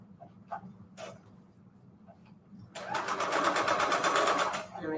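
A sewing machine stitches around the edges of a paper envelope page for a junk journal. Faint handling noises and a voice come first, then a close, steady burst of fast stitching lasting about two seconds.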